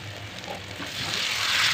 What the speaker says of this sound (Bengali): দিয়ে নেড়ে নিচ্ছি, ভালো করে কষিয়ে নিচ্ছি মশলাটাকে